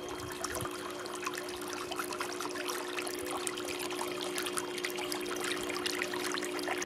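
A cordless Beatbot AquaSense 2 Ultra pool robot skims the pool's water surface, giving a constant rushing, trickling water noise over a steady motor hum, close and unbroken.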